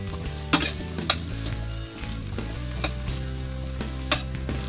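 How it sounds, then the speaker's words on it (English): Potatoes sizzle and fry in extra virgin olive oil in a pan aboard a 41 ft sailboat, a steady close crackle punctuated by several sharp clinks of a utensil stirring against the pan, no voices. "Extra virgin olive oil. Potatoes go in."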